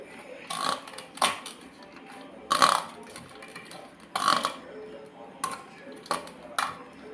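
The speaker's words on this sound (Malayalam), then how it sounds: "ഒന്ന് നല്ലവണ്ണം സ്പൂൺ കൊണ്ട് നമുക്കൊന്ന് പതുക്കെ ഇങ്ങനെ ഇളക്കി യോജിപ്പിക്കാം." A spoon stirs a salted sliced-onion mixture for onion fritters in a bowl, giving a few scattered clinks and scrapes at irregular intervals against a quiet background.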